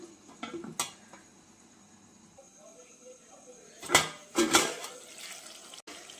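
Egg biryani is stirred in a pot with a spoon, giving quiet scraping and a few sharper clinks of metal against the pot, with louder knocks near the middle and end and no talking.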